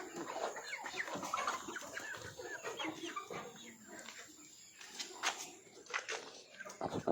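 Chickens cluck and murmur in a busy, irregular chatter nearby after rain, soft and continuous, with a few sharper calls.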